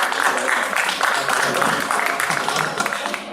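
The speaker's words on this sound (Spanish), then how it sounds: "Un aplauso muy fuerte para él." An audience at a comic book presentation at a convention applauds the scriptwriter, a loud sustained wash of clapping mixed with crowd noise that tapers slightly toward the end.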